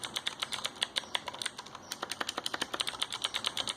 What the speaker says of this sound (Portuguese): Olha o barulhinho dele, ó. O barulhinho dele é muito bom, galera.